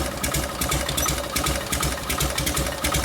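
A 1952 Harley-Davidson panhead engine on an old FL bobber runs steadily at close range, a loud, continuous rapid mechanical chugging with even pulsing and no voices.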